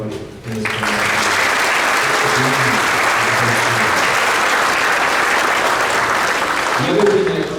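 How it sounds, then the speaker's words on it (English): Loud, sustained audience applause fills a school concert hall for the seventh and eighth grade middle school bands, continuing steadily for several seconds before voices break through near the end. "So a round of applause for everybody in this band."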